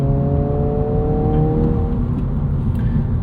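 Inside a 2025 Honda Civic Si under way, piped-in engine sound forms a loud, steady, muffled drone with a rising tonal whine over deep road rumble throughout.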